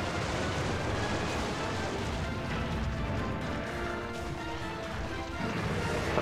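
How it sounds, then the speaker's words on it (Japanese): Explosions slamming against walls during a hunt in Monster Hunter X against Bulldrome-like Uragaan, a dense rumbling roar of blasts and crashes running steadily throughout, fairly loud with no talking. "全部壁にぶつかって爆発したね"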